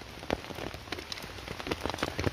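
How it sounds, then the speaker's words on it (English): Rain falling steadily outdoors at a stealth camp beside a Category A prison in County Durham, with irregular drops tapping close on a nearby surface over a constant hiss, and no voices. "Hopefully, the rain eases off soon."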